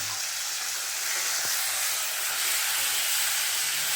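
Washed mutton frying in a pot gives a loud, continuous sizzle and hiss close by, with one small knock partway through and no talking.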